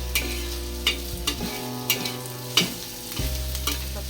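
Onion frying in a little oil in a pan, a steady soft sizzle broken by several sharp scraping stirs of a utensil against the pan, close and fairly quiet.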